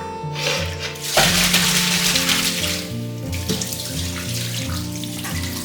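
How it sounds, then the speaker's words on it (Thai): Pork legs are rinsed under a steady stream of running tap water for soup, giving a continuous splashing wash that carries on throughout, with background music playing underneath. "แล้วก็ให้เราล้างผ่านน้ำเลยค่ะ ล้างให้สะอาดนี่เลยนะ"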